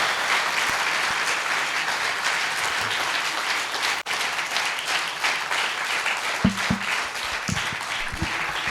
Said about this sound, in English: Let us give her a thundering round of applause.